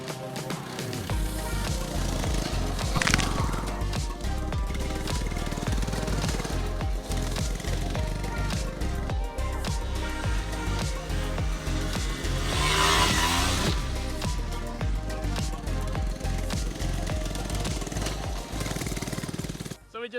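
A cheap FRP minibike engine revs hard and steadily while being ridden, a loud buzzing drone that rises and falls throughout, with people talking faintly under it.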